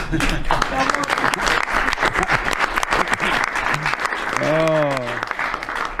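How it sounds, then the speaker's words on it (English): A room of press reporters breaks into steady applause, many sharp overlapping claps at a moderate distance, with voices talking and a brief exclamation over the clapping near the end. "The press actually broke out in applause."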